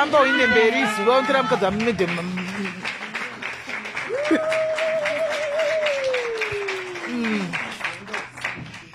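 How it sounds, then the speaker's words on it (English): An audience gives a woman a standing ovation at a women's program, applause rising under a voice at the start and then swelling into sustained clapping while a higher voice calls out over it. "Let's give her a round of applause."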